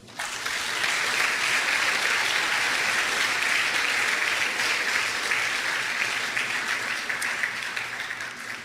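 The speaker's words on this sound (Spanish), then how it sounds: "Dele un aplauso al Señor." Church congregation breaking into sustained applause during a Spanish-language sermon, a dense, loud, even roar of many hands clapping that rises quickly and holds for several seconds before tapering slightly, with no speech over it.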